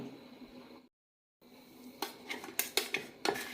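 Chili powder, turmeric and garam masala being crushed into carrot in a bowl: scraping and clinking of a utensil against dishware, a few sharp knocks in the second half after a brief silent gap.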